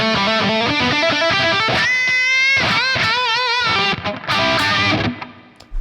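Electric guitar played through the Revv Purple amp model on a Line 6 HX Stomp, loud, heavily distorted chords and bent single notes in a fast riff that drops out briefly before ending.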